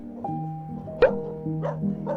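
A pack of puppies in a rubble-strewn redevelopment area in Hanam gives a few short barks and yips at close range, with brief pauses between them.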